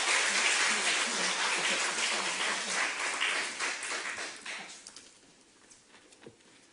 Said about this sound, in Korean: 기쁜 마음으로 감사하는 마음으로 박수로 환영하겠습니다